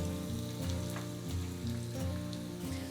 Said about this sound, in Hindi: मैं 1 चम्मच भर के अच्छे से इसमें लहसुन डाल रही हूँ।